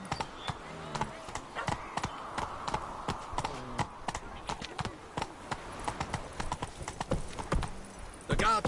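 Roach, the horse in The Witcher 3, galloping with a rapid, rhythmic clip-clop of hooves close by, briefly mixed with a soft snort or whinny, while a voice speaks quietly over part of it.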